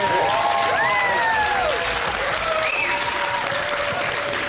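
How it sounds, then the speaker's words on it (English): Studio audience on a comedy quiz show gives a thin, dutiful round of pity applause, a steady broad wash of clapping that carries on throughout, with faint voices and cheers blended underneath. "Oh, the pity applause."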